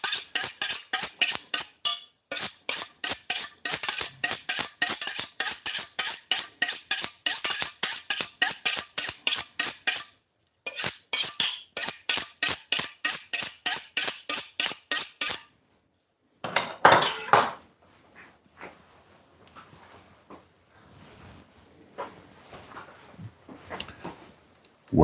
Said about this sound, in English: Cut these onions and peppers.